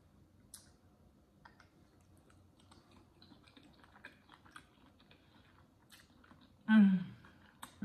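Quiet, close chewing and small wet mouth sounds from someone eating a crawfish and shrimp seafood boil with sauce, with one louder bite near the end.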